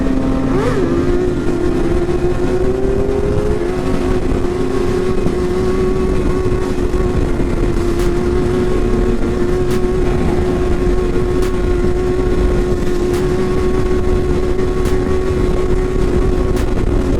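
A stock sport bike engine holds a loud, steady high rev throughout, with a brief pitch rise near the start and a sustained tone that barely wavers, heard up close without talk.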